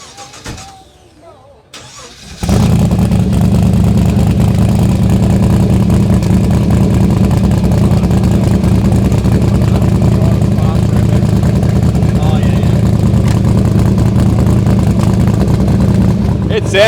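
A car engine with a limited-slip center diff and Ultra 9 axles fires up after a quiet pause, then holds a loud, rough, gnarly idle and revs steadily close by, with muffled voices in the background.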